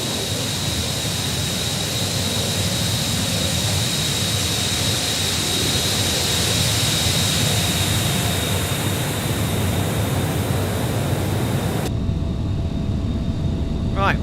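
Air France Concorde jet engines whine and roar steadily while taxiing in a flight simulator game, a loud continuous drone with a high tone, which drops away abruptly near the end.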